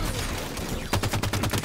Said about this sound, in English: What's that really rapid gun that he keeps on using, John?